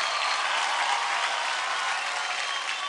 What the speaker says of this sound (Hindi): आपके लिए रिंगा रिंगा, जोरदार तालियां।